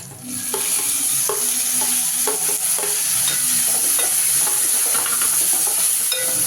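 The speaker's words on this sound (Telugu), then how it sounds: "2 టమాటాలు సన్నగా కట్ చేసి పెట్టుకున్నా, అవి వేస్తుంది ఇప్పుడు." Finely chopped tomatoes go into a hot pan over ginger and are stirred, giving a steady sizzle broken by repeated scraping strokes of a spoon, close and continuous with no talking.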